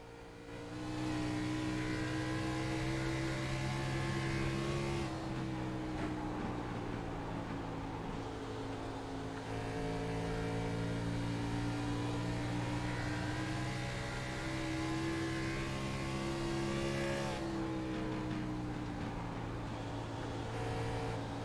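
A race car engine roars steadily from a low cockpit onboard view, with a sustained loud drone that shifts pitch through gear changes and throttle variations.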